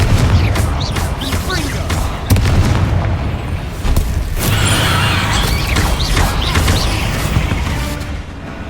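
Confringo fire spell cast in the video game Hogwarts Legacy: loud booming blasts and crackling bursts over a continuous rumbling game soundscape, with a voice calling out.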